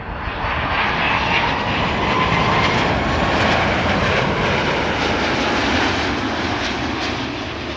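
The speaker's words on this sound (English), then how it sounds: "I don't want to miss the A330 from Air China Cargo arriving from Chengdu in China" An Air China Cargo Airbus A330 arrives at Amsterdam Schiphol Airport, its jet engines a loud, steady roar that stays strong and nearby for the whole stretch, with no voices over it.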